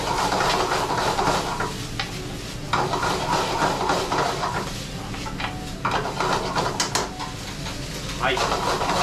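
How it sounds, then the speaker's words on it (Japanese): Pasta is tossed quickly in a pan over high heat, giving continuous scraping and clattering of utensil against metal with rhythmic bursts of stirring, close and fairly loud, with faint voices in the background. "手早く強火で混ぜていきます。"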